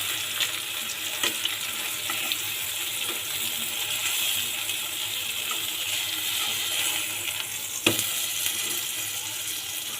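A cheese omelette fries in a pan with a steady, soft sizzle and the occasional faint crackle. The frying runs throughout with no talking.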